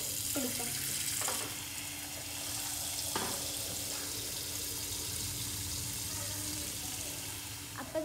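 Cold water poured from a tap over boiled eggs to cool them while a Kerala masala egg roast is being prepared. A steady, close splashing rush of running water continues for the whole stretch with a few faint kitchen knocks.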